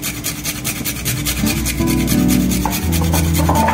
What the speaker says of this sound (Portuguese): E noz moscada, que eu gosto de moer aqui